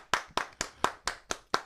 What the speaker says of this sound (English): I'm gonna give a round of applause to the city of Detroit